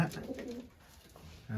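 Soft, low pigeon cooing close by, a short murmuring call that fades and returns at the end, fairly quiet.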